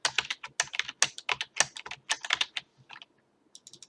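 Rapid keystrokes on a computer keyboard while writing Java code, crisp close clicking in an uneven rhythm for about three seconds, then a short pause and a few final taps.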